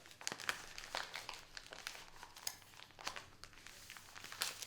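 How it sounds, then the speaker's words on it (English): A paper map is folded up by hand, a close, quiet run of crinkling and crackling paper with irregular sharp rustles throughout. "I just fold it up."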